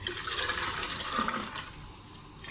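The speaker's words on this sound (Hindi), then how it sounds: "थोड़ा और पानी डालेंगे, तकरीबन 2 लीटर पानी हो" Water poured into a yogurt mixture for kadhi pakora, a steady splashing gush that gradually tapers off, with no talk over it.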